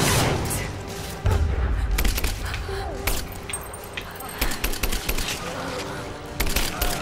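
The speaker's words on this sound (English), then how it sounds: "I got an assault rifle. You're gonna die." Assault rifle fire in the video game Rise of the Tomb Raider: rapid bursts of gunshots and booming impacts over a busy game soundtrack, fairly loud and dense throughout.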